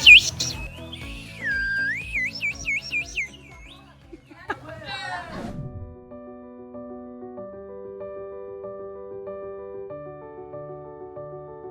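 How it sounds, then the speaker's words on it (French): Small toy whistles blown in a lively group setting during a trip in Vietnam, giving warbling, trilling high tones in short bursts up close, followed by steady musical tones and background chatter. "Des sifflets, regardez, je vous montre comment ça marche."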